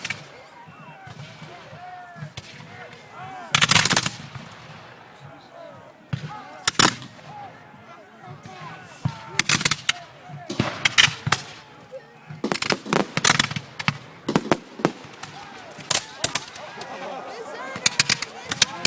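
Musket gunfire at a War of 1812 battle reenactment near Queenston, with scattered loud sharp shots and a few bigger blasts ringing out at irregular intervals amid distant crowd murmur and occasional talk.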